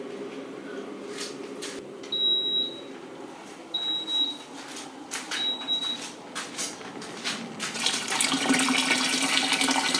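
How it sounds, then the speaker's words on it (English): Hot water pouring from a tap into a container while preparing a wash, a continuous splashing rush that thickens and rises in pitch as it fills, with a few faint beeps. "This should give us 6 litres of hot water going straight into here."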